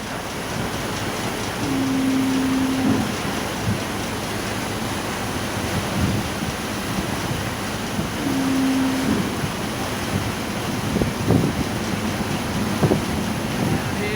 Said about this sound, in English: now we're really hitting it as we're charging into Hobart on the commuter ferry